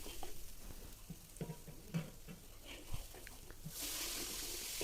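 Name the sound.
spice paste frying in leftover chicken oil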